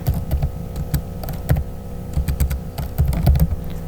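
A name being typed on a computer keyboard while designing a church flyer in Photoshop: rapid, irregular clicking keystrokes, close and fairly loud, with no voices.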